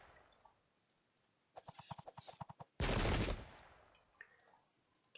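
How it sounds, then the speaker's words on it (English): Musket volleys in a strategy video game, with a rapid series of evenly spaced shots followed by a dense, loud roar of massed gunfire, then fading clicks and faint distant shots. "They're raw, so they just opened fire"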